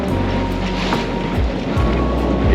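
Heavy seas slam and wash against a small sailboat under sail, a loud, close roar of surf and spray with repeated crashing surges and wind buffeting.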